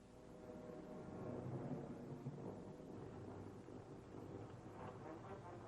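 A heavy storm over the English Channel after the Normandy D-Day landings rolls as a continuous low thunder rumble mixed with wind buffeting, steady and muffled.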